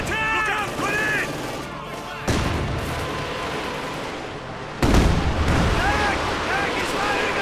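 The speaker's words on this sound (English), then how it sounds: "Grenades left and right, explosions left and right as well" Explosions and gunfire fill a Company of Heroes 2 battle, with dense crackling bursts and sharp booms layered into continuous loud combat noise, heavy impacts landing around the middle and later on.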